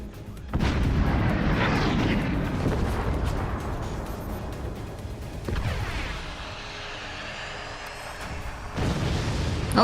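Rockets fire and explode in the Forts video game, with heavy booming blasts that land in quick succession. Loud rumbling impacts are followed by decaying roars, and a fresh burst arrives near the end.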